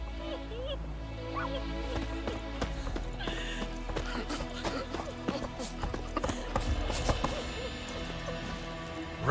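Roach the horse gallops in The Witcher video game, a continuous rapid clip-clop of hooves with a whinny, under faint background voices and ambient game sounds.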